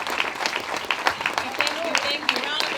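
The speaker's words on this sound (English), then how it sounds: "Round of applause for Masterpiece" A small audience at a live talk event applauds, producing scattered, uneven claps with voices mixed in, moderately close and not very loud.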